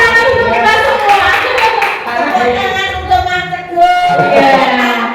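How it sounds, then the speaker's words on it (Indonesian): Hands clapping in a classroom, a loud rhythmic burst of many claps close by, with children's voices mixed in throughout. "Tepuk tangan untuk kita semua."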